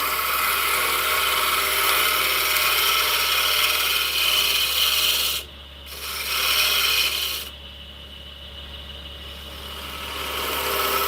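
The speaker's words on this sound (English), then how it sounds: "I'm going to scrape that again" Hand scraping on a spalted hickory lidded box, a loud, continuous, rasping scrape close by that pauses briefly twice before resuming.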